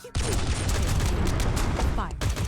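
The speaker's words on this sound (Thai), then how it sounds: "มีเสียงปืนก็คือเขาก็เริ่มสู้กันแล้วนะ" Rapid bursts of gunfire from a machine gun in the video game Eternal Return Black Survival, loud and dense, firing almost continuously with a brief break near the end.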